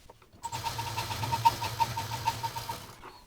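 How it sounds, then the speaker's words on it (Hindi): A sewing machine runs a short, fast stitching burst on a fabric basket handle, a close, even whirring rattle with quick repeated needle ticks, starting abruptly and stopping after about two and a half seconds. "अब ये जो यहाँ पर पहले से सिलाई आई है इस पर एक दाब मशीन चला देंगे"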